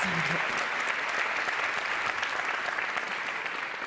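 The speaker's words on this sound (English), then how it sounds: "Yes, a worthy round of applause." An audience at a cycling team presentation applauds a European champion rider, a full, steady burst of many people clapping that holds evenly for several seconds.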